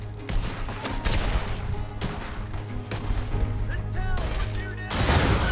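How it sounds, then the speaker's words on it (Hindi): Rapid explosive gunfire from modded explosive bullets in Red Dead Redemption 2, set in Blackwater, with dense overlapping shots and blasts forming a continuous loud barrage that swells to a heavy burst at the end. "explosive bullets"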